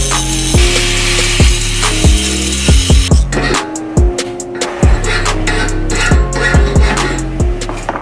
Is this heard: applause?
no